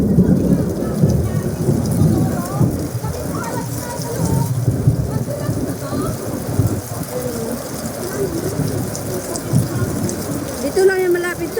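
Heavy, steady rain pours down with low rumbles of thunder rolling underneath, continuous and loud throughout.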